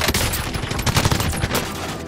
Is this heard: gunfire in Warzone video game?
yes